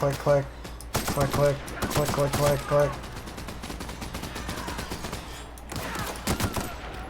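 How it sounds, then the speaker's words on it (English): N-ray gun firing in the video game The Outer Worlds, repeated rapid bursts of loud shots in a fast rhythm, heard alongside other game sounds and a voice talking. "Damn, that fucking N-ray gun."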